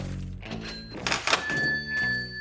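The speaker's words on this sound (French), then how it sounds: "cette ancienne caisse enregistreuse de pub anglais" Old English pub cash register worked by hand at a flea-market house: mechanical clunks and clatter of keys and drawer, then a ringing bell tone that lingers, close and loud with no talking.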